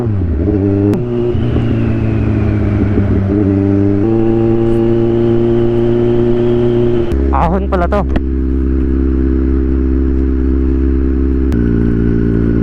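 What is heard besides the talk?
motorcycle engine climbing uphill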